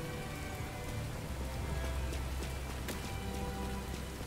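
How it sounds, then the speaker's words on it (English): Steady rain pours at Dante's old house in Devil May Cry 5, a continuous even hiss of drops on surfaces with a low rumbling bed beneath, filling the scene without pause. "And it's raining."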